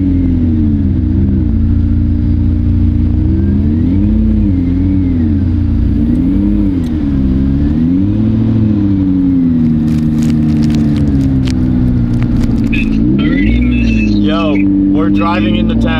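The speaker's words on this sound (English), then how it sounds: "This is my first time driving a hypercar of any sort, and it's a freaking McLaren P1" A McLaren P1 hypercar engine drones loudly from inside the cabin while driving, its pitch rising and falling as the car speeds up and eases off, with rattles and rustles near the end.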